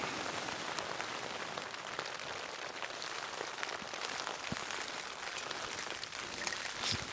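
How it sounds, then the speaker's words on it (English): Steady rain pattering on a tent, a dense continuous hiss of drops with occasional sharper taps, soft and even throughout, with no voices. "It's been 3 hours of rain."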